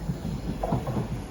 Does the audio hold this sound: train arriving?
yes